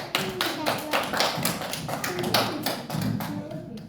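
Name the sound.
children applauding in a classroom quiz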